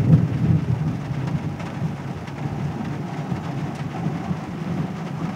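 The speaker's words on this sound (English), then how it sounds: "Do you hear that thunder?" Steady rumbling thunder rolls through a heavy rainstorm outside a shopping center, a continuous low roar with a broad hiss of rain over it, loud and close, with no talking.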